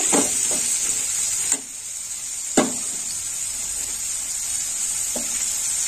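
Dahi aloo being stirred and fried in a pan, a steady bright sizzle with a few sharp clicks of the spoon scraping the pan.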